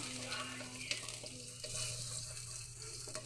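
Garlic sautés in a hot pan for ginataang sitaw at kalabasa, giving a steady close sizzle with a few light scrapes of stirring and no talk over it.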